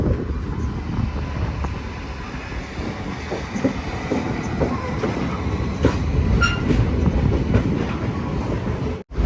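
The Vivek Express rolling along the rails at Dibrugarh, a steady loud rumble with clickety-clack of wheels and faint metallic squeals near the end, no voices over it.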